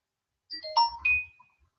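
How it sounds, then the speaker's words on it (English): A phone message notification chime rings out as a short series of bright tonal dings, fairly close and clear in an otherwise quiet room, with no talking over it. "your phone will give you a ding, da ding, ding to let you know that someone sent you a message"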